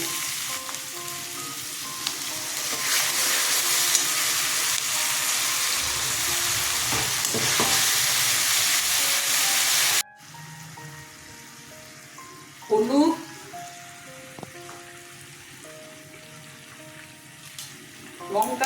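Ginger and garlic leaves hit eggplant frying in a pan for a duck egg and eggplant jhura, giving a loud, steady sizzle that drops to quieter stirring and frying while a voice talks.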